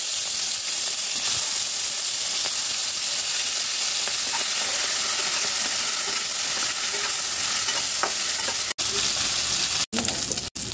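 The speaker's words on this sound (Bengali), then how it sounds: "এবার আমি চিংড়ি মাছটা ভাজার জন্য কড়াতে তেল দিয়ে দেবো।" Shrimp fry in hot oil in a wok with a dense, continuous sizzling hiss that holds steady at close range, broken only by a couple of brief cut-outs near the end.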